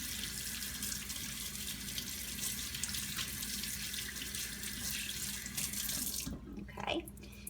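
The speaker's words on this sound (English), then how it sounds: "And you just want to rinse it with lukewarm water." Lukewarm tap water runs steadily into a sink while a makeup brush is rinsed beneath it, a continuous close splashing stream that cuts off near the end, leaving a few drips.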